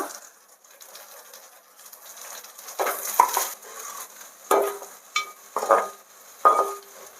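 Garlic, capsicum and carrot cooking in oil in a pan for spicy pasta, a low quiet sizzle broken by several sharp scrapes and clinks of a utensil against the pan.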